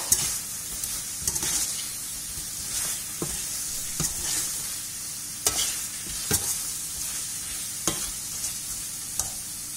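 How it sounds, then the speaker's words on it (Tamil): Masala being stirred into Chettinad chicken curry in a hot pan, a steady sizzle and fry hiss broken by sharp regular scrapes of the spoon against the pan. "கொஞ்சம் மசாலா ஆட் பண்ணிட்டு முதல்ல பிரட்டி விட்டுக்குங்க"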